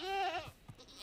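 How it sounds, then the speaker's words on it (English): A single goat bleats in Minecraft, one short wavering cry up close, followed by faint soft thumps. "Goats."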